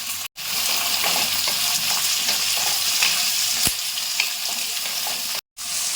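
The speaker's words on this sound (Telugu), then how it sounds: "ఇప్పుడు ఆనియన్స్ కూడా యాడ్ చేసుకోండి" Sliced onions and garlic fry loudly in hot oil, a dense, steady sizzle with occasional stirring scrapes, close up, broken by two brief moments of silence.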